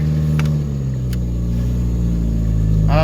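A woodgas-converted Chevrolet Cavalier engine runs steadily at a low, even idle, a continuous close-up rumble with a brief rise in pitch near the end.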